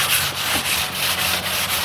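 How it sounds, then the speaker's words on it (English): Steady, rhythmic scratchy rubbing of sandpaper over a hard fiberglass surface, close up, in repeated back-and-forth strokes with no talking. "as I come into this area and I start sanding the area"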